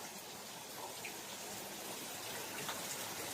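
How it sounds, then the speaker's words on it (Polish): Rain falling on Koh Tao, Thailand, a quiet, steady hiss of drops with a few faint patters, heard alone. "I tak pada."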